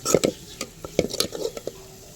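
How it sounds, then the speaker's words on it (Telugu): Ginger garlic paste is stirred into a Telangana-style onion and egg curry, the spoon scraping and knocking against the pot in quick, close strokes while the oil sizzles faintly underneath. "ఇప్పుడు దీంట్లో అల్లం ఎల్లిగడ్డ పేస్ట్ కూడా వేసుకొని చూడండి మంచిగా దీన్ని ఇలా కలుపుకోవాలి"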